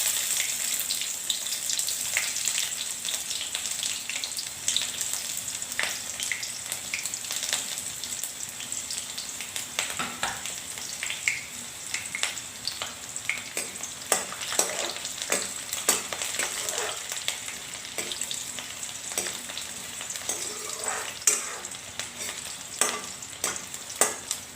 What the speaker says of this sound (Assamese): আৰু ইয়াৰ পাছত দুটা তেজপাত দিম। আৰু কাটি থোৱা পিঁয়াজখিনি দিম।